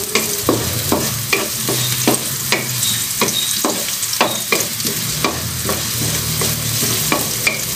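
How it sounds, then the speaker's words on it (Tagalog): Ginger and garlic sautéing in a pan for ginataang papaya with dried shrimp: steady close sizzling broken by regular scraping stirs of a utensil, with no voices. "Luya muna at saka bawang."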